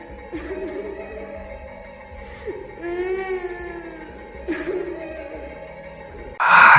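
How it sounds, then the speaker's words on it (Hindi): A woman wails and sobs in drawn-out, moaning cries, with short breathy gasps between them and a louder burst near the end. "पीछे हमें एक औरत के रोने की आवाजें आईं।"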